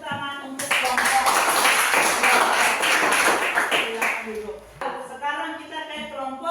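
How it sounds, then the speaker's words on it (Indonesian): A classroom of students applauds a group after it presents its maths answer, a dense burst of clapping that fades around the five-second mark as voices take over. "mari kita beri tepuk tangan untuk kelompok"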